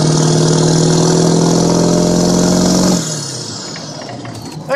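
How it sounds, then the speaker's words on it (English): A Ford Powerstroke diesel truck fitted with an exhaust stack holds a loud, steady high rev for about three seconds, then drops back to a quieter, rumbling idle. "That kind of gives you a little idea what it sounds like with the truck on the floor."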